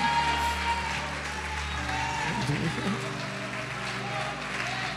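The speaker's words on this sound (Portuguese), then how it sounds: "Pode aplaudir, glorificar." A church congregation applauds at a sermon's close, steady clapping mixed with crowd murmur and a low hum of room noise, with a voice rising briefly partway through.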